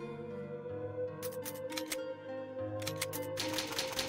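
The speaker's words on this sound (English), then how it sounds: "Old typewriter." An old typewriter in the Resident Evil Remake game clacks in two quick clusters of sharp key strikes, fairly faint against a low, sustained background drone.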